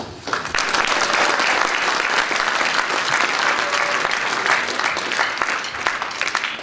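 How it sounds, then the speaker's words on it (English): An audience claps at a high school marching band's fall scholarship concert, dense sustained applause filling the room steadily for several seconds, with no speech over it. "I can see you got your clapping going."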